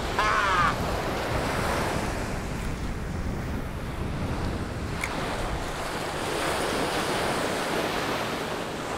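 Ocean surf breaks and washes continuously along a beach during surf fishing for Spanish mackerel, a broad, steady roar of waves mixed with wind buffeting the microphone.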